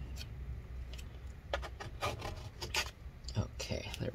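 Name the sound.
scraping battery adhesive bits out of a MacBook Pro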